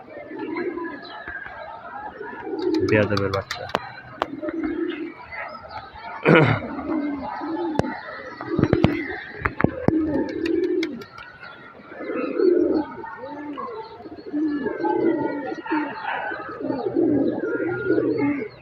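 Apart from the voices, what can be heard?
pigeons cooing, released outside loft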